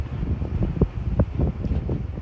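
Gusty wind at Lindsey Nelson Stadium rumbles and buffets the microphone in uneven low bursts, with no voices.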